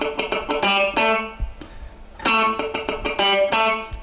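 A distorted electric guitar riff of quick, choppy notes broken up by short percussive muted clicks, in a tight syncopated funk rhythm, played alone.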